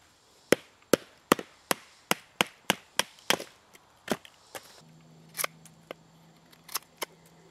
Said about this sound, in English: let's split this sucker in half so we get enough for a hearthboard and a spindle.